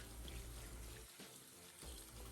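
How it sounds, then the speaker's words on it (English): Hot tap water runs steadily from a faucet over a paintbrush being cleaned of dried paint in a craft room sink, a close, continuous splashing rush with a brief dip near the middle. "Put that hot water back on and let it run over your brush"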